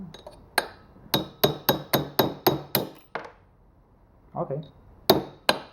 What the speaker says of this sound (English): hammer time, I guess.